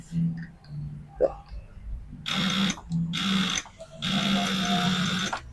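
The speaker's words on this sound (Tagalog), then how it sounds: "Pag gano'n na yung tunog ng battery nyo, kapag ini-start, battery na yung problema niya" A motorcycle with a weak battery cranks and fails to start, a few sluggish, labored bursts of starter whirring separated by pauses, close to the mic.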